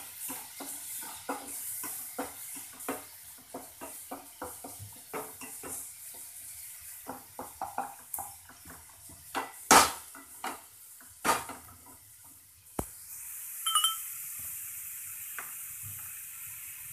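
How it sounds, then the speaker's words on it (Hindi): Garlic and onion paste frying in a pan for matar paneer, a quiet steady sizzle under repeated spoon scrapes and a few sharp clinks against the pan, close by and without voices. "मैंने इसमें 4 चम्मच ये गार्लिक और ऑनियन का पेस्ट डाला है, इसको हम अब फ्राई कर लेंगे और भून लेंगे अच्छे से"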